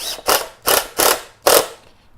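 A power drill drives coated 2-inch screws into the wood of a DIY planter box, four loud whirring bursts in quick succession with short pauses between them and no talk.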